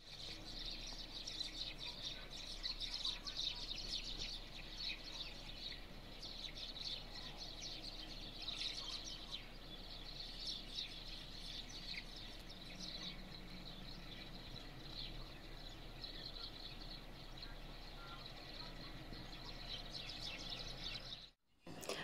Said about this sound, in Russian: Послушаем птичек.